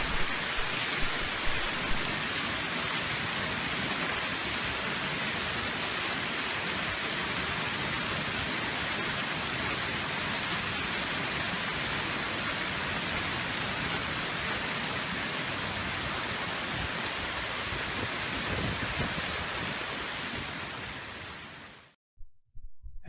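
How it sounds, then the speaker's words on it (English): A hailstorm in the Denver metro area gives a dense, steady roar of hail and rain that drums on surfaces without a break, then cuts off abruptly at the end. "Take a look at the magnitude of this recent hailstorm."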